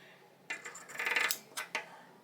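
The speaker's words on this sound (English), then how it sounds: "I want to take my pinking shears and make an edge" Pinking shears snip along a fabric edge while pajama pants are sewn into bloomers: a few short, crisp metallic chomps, then a rapid rustling run of cuts and two more sharp snips, close and quiet with no talking.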